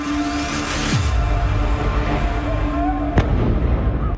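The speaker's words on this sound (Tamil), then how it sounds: "எல்பிஜி சிலிண்டர்கள் வெடித்து சிதறிய பகீர் காட்சிகள்தான் இவை" LPG gas cylinders exploding on a roadside lorry near a nature park in Dharavi, Mumbai: a loud boom followed by sustained roaring and crackling, with a second sharp blast later, heard alone.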